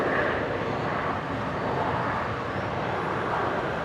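An Alliance Airlines Embraer 190 jet operating Qantas flight 1906 from Canberra, at Brisbane airport, gives a steady broadband roar that holds loud and even throughout with no talk over it.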